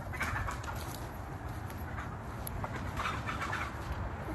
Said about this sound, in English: There's commotion with the chickens over there. The rooster just chased the last hen inside.